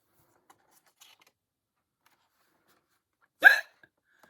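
A little penguin gives a single short hiccup that stands out alone against near silence.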